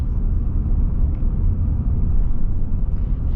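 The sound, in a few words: 2024 pickup truck powertrain engine sound while driving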